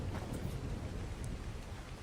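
Steady broadband rain hiss from a rainstorm in the survival video game Ark, a constant wash with faint low rumble and no talk.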